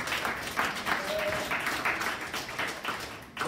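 An audience applauds steadily, a dense wash of clapping that continues evenly throughout.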